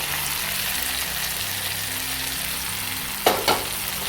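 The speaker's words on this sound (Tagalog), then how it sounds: "Ngayon ay pwede na nating ilagay itong ating marinated beef." Marinated beef fries in a hot pan with a steady, close sizzle, joined near the end by a couple of sharp clatters of a utensil stirring the meat.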